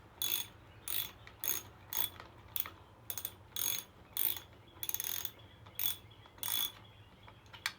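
Ratchet wrench clicking in quick bursts as it tightens a bolt on a 1994 Yamaha XT350 motorcycle while reinstalling the kick start shaft, about a dozen close, sharp ratcheting spurts separated by short pauses.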